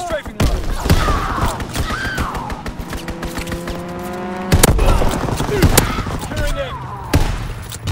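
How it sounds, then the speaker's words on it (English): Rapid bursts of video game strafing-run gunfire clatter through a busy battle mix, repeated volleys and engine-like roars layered with radio voices and other combat sounds. "Call for a strafing run."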